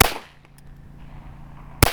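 Two sharp .22 pistol shots from a Ruger Mark I, one at the very start and another near the end, each a loud crack with a brief ringing tail, separated by a quiet stretch of low hum.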